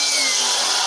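Power saw making a square cut through a roof rafter for house framing, one loud, steady, high whine lasting about a second with no talk.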